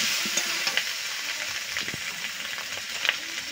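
Steady hissing sizzle from a frying pan of kuche (eel) fish curry as a little water goes in, with scattered clinks and crackles over a constant bright hiss.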